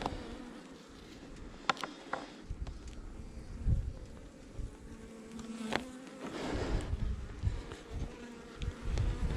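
Honey bees buzz around an open hive at an Alberta apiary during splits and queen installation, a steady close drone with individual bees passing near and fading, and no one speaking.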